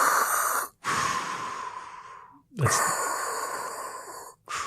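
A voice imitates Darth Vader's mechanical breathing, with long rasping inhales and exhales separated by brief silences and a short spoken word partway through.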